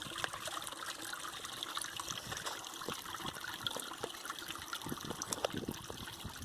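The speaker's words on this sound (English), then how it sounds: "It's called a Sawyer squeeze, and you thread that on the top of the bag and then squeeze clean water into your" Clean water squeezed from a bag through a Sawyer Squeeze filter into water bottles on the Appalachian Trail, a steady soft trickle and dribble running for several seconds against faint outdoor background.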